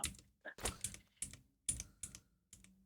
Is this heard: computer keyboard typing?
yes